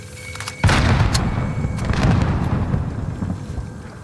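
A grenade explodes in a battle royale shooter game, a sudden close boom with a heavy low rumble that rolls on and slowly fades over several seconds.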